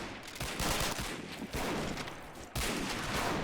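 A WW2 British firing line in a fort siege battle video game lets loose, dense volleys of rifle and machine-gun fire crackling in overlapping bursts, loud and sustained with sharp renewed volleys, no voices.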